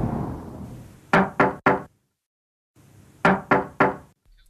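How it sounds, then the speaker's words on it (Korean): Knocking on a door, played to a dog for sound socialization: two close, sharp sets of three knocks separated by a short silence, with no talk. "노크 소리"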